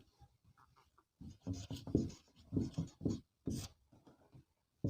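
Pen writing numbers on paper while working a class 12 chemistry solutions problem, a run of soft scratchy strokes in short bursts with brief pauses, close and fairly quiet.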